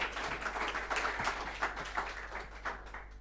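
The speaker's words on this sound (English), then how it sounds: "So please give her a round of applause." An audience at a workshop gives a speaker a round of applause, soft scattered clapping that rises and fades over a few seconds.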